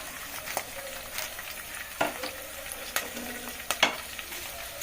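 Whole spices such as cloves, cinnamon and bay leaf frying in a pot for biryani: a soft, steady sizzle broken by several sharp scrapes and clinks of stirring, fairly faint and close.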